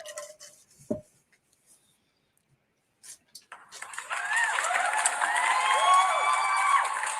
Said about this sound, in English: Where is that clapping coming from?